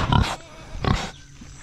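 Pigs on a farm give two loud, close grunts about a second apart, with quiet rustling between them.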